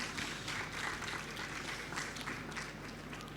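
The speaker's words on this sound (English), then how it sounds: "Please give them a big round of applause." An audience at a Taiwanese smart manufacturing trade show applauds the VIP guests, a soft, somewhat distant patter of steady clapping over a faint background hum, lasting a few seconds.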